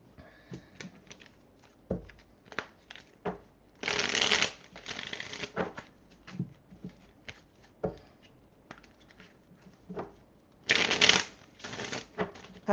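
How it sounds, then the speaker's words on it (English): Tarot cards are shuffled close by in a quiet room, with soft scattered taps and flicks broken by two longer riffling bursts as the deck is bridged together. "I got to get these cards together."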